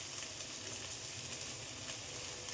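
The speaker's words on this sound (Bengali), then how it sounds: "অল্প বেগুন দিয়ে নাড়াচাড়া করে এর মধ্যে একে একে মশলাটা দিয়ে দিতে হবে" Brinjal stirred and fried in hot oil in a pan for a thin Boku fish curry with potato, making a dense, even, hiss-like sizzle that runs steadily throughout, fairly faint and with no voices.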